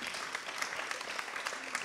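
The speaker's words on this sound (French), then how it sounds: "applaudissez-les" A brief burst of crowd applause at an environmental book prize ceremony, an even, busy crackle of many hands clapping at moderate distance with no break.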